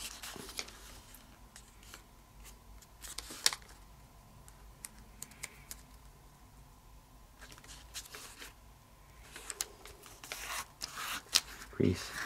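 Square origami paper folded and sharply creased for a triple-bladed spiral shuriken, heard up close as scattered crisp crinkles, rustles and quick pressing swipes between quieter pauses.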